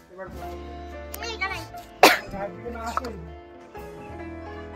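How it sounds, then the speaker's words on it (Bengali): A sharp, loud cough bursts out amid ongoing chatter, with a few smaller coughs around it. "আমরা দাঁড়াতে পারছি না, এত কাশি হচ্ছে।"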